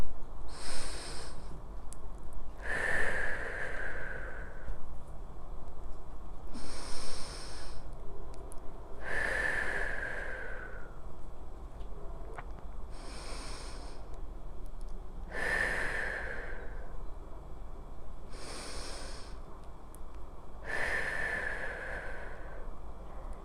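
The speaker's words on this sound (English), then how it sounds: "let's begin the 6 breaths" Slow, deep breaths during a stretching routine, each long airy inhale or exhale rising and fading in a steady cycle of about six, close and fairly soft with no talking.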